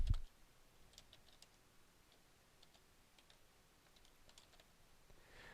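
Quiet, sparse typing on a computer keyboard: light scattered key clicks at an irregular pace, close and soft, with a brief thump at the start.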